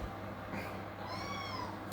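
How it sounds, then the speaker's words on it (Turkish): A very young kitten meows in a couple of thin, high, drawn-out cries, close and fairly faint, with no talk over them. "Çok küçük bir bebek olduğu için bu kadar miyavlayabiliyor."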